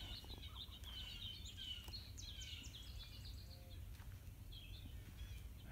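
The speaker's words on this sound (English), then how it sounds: "A finch." Finches chirp in quick high twittering bursts at a moderate distance, over a low steady outdoor rumble.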